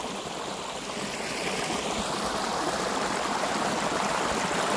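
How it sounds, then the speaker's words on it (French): A small stream waterfall rushes and splashes steadily outdoors in the morning, a close, continuous wash of falling water with no voices. "La micro-cascade."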